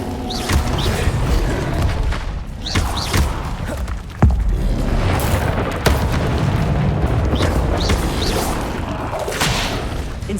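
Incendio fire spell cast in the video game Hogwarts Legacy, a loud rumbling burst of flame with booming thuds and crackling layered over game action, repeated impacts throughout.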